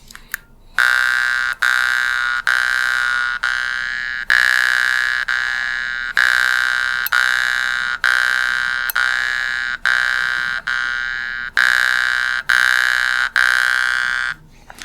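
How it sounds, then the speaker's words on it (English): Jaw harp (mouth harp) plucked in a steady rhythm while the player breathes in and out through the nose, producing a loud, close, bright twanging drone with sharp regular attacks, about fifteen plucks, alone without talk. "Now we're going to pluck in and out,"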